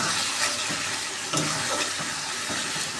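Chicken sautés in a pan with a steady, loud sizzle and frying hiss, broken by a few stirring scrapes, close up and with no voices.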